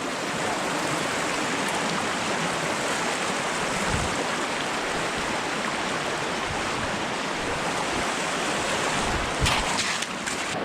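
Steady broadband rush of flowing stream water alongside a mountain hiking trail near Echo Lake and Mt Lapworth by Squamish, continuous and fairly close, with no talk over it.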